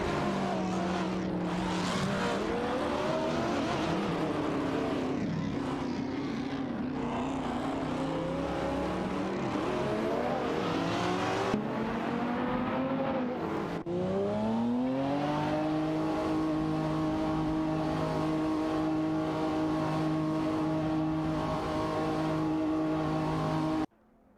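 Race cars in an AI racing video game, a loud whining engine drone that rises and falls in pitch through gear changes and acceleration, with tire squeal and cars passing, ending abruptly.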